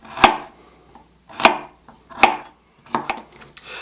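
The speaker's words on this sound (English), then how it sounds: "Next we need 1 1/4 cups of chopped carrots. So I'm going to use these baby carrots that I have here." Baby carrots being chopped on a cutting board with a knife, four distinct crisp chops spaced about a second apart, close and clear with quiet gaps between.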